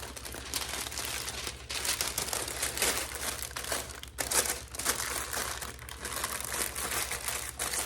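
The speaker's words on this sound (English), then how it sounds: "to use Reynolds Cut Right wax paper today" Reynolds Cut Right wax paper crinkles and rustles continuously while being folded over a pie crust, soft and close with a faint low hum behind.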